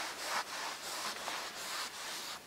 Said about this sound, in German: kann man sehr gut einen feuchten Lappen nehmen, einmal über die Oberfläche wischen